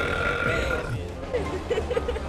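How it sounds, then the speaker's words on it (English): A loud, drawn-out burp erupts in a public place, rumbling over a steady bed of crowd chatter and background hubbub, with a voice talking at moments. "I'm burping since morning."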